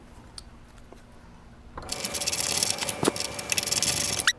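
Wrenches tighten the bolts on Outback Motortek upper crash bars on a Husqvarna Norden 901 motorcycle: quiet at first, then a dense run of close metallic ratcheting and scraping clicks with a few sharper knocks.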